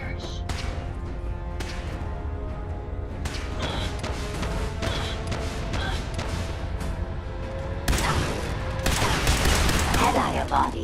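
Robots in Fallout 4 Automatron open fire in dense, rapid gunfire bursts and crashes, with synthetic robotic voices speaking over the shooting throughout.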